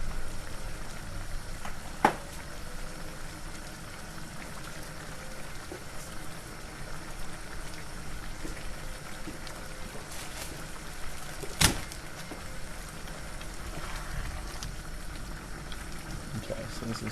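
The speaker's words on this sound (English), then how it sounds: "Okay, so this is boiling away." Pot pie filling with potatoes and mushrooms simmers at a steady low bubble in a pot for a porcini pot pie, a soft continuous seethe with a couple of brief clinks, heard close and quiet.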